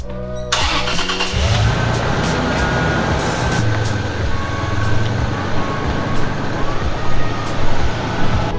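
A Toyota Tacoma truck on 37-inch tyres pulls away on a test drive, its engine starting with a loud rumble, then a steady close drone of engine and road noise with a few brief bumps and rattles.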